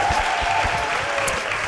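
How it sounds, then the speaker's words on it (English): Audience applause for a Q&A panel at a youth event, a dense, steady round of clapping filling the hall with no talk over it. "If you give these guys an amazing round of applause."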